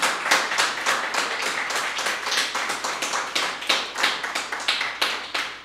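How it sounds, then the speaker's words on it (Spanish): A church congregation claps loudly in a strong, rhythmic pattern of sharp, evenly spaced claps that carries on throughout. "Démosle un fuerte aplauso al Dios vivo"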